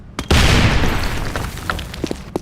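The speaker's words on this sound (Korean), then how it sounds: "수류탄 투척!" In a video game, a grenade detonates with a sudden loud boom that decays into a rumbling, crackling tail, followed by a few sharp pops and clicks.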